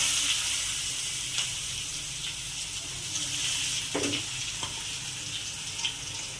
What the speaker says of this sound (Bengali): 2টো তেজপাতা, আর পেঁয়াজ কুচি দিয়ে দেবো।